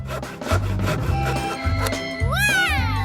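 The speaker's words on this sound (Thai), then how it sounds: "มันมีวิธีดีๆแล้วล่ะต้องใช้เลื่อยออกมาเลื่อย" A saw rasps through a tightly sealed snack package in repeated back-and-forth strokes, loud and close, followed by a rising squeaky tone near the end.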